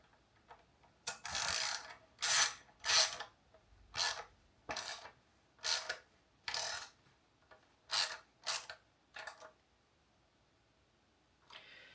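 A 10mm socket ratchet tightening hardware on a vintage Ernie Ball MusicMan Silhouette Special guitar gives short bursts of rapid clicking, about a dozen separate strokes with pauses, close and fairly quiet.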